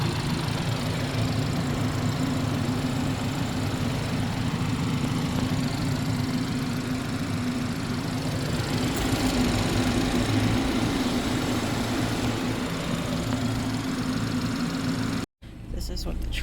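A steady 2019 BMW 430i Gran Coupe engine idles with a low, continuous rumble for the whole stretch, cutting off briefly near the end.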